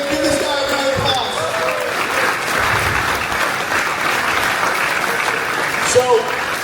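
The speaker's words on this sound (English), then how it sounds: "Give this guy a round of applause." Steady, full applause from an audience at a business presentation fills the whole stretch, with a voice briefly audible at the start and a faint cheer near the end.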